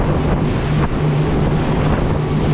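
Steady roar of wind and rushing water as a large fishing boat moves through choppy waves in a passing rain shower, loud and continuous with no voices.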